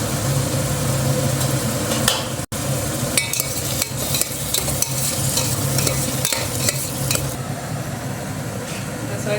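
Tomatoes for chicken biryani sauté in a pan, crackling and sizzling while a spoon stirs with repeated scrapes and clinks, and a low background hum runs underneath.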